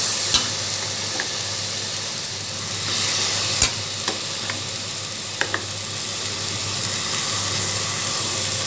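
Three large spoons of ginger garlic paste fry in a pan with sautéed onions for a mutton kurma, a continuous broad sizzle with scattered sharp clicks and scrapes of stirring. No one speaks.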